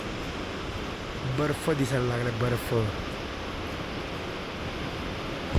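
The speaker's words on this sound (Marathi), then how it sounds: "हा धबधबा आहे हा, पण हा जो वरती आहे हा बर्फ आहे." A mountain waterfall on the Kedarnath trek gives a steady, broad roar of rushing water that runs under a voice speaking Marathi in the middle and carries on alone afterward.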